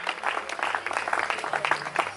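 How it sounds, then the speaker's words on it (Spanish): Church congregation applauding together during a Spanish-language worship service, a steady dense patter of many hands clapping throughout with a faint voice underneath. "Dile un aplauso al Señor mientras nuestro amigo avanza en el nombre de Jesús."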